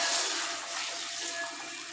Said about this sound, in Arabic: هحط بقى كده معايا الميه بتاعتي غلت